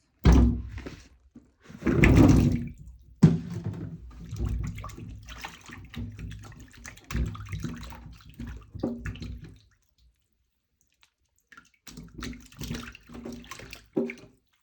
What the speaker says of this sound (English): Next step is that we're going to wash our potatoes.